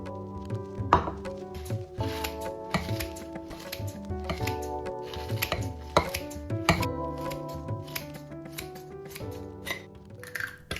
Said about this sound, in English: First, I'm chopping some bell peppers and spinach.